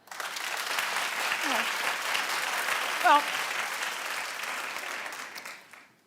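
A television talk show studio audience claps in a dense, sustained burst of applause that holds steady for several seconds, then fades out, with a brief voice speaking over it.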